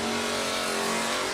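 Camaro and Mustang drag cars launch side by side at a race, their engines giving a loud, sustained, dense roar throughout.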